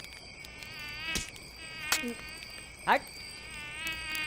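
Mosquitoes whine steadily with a thin, high, continuous drone close by, broken by a few sharp slaps or swats and a brief spoken word.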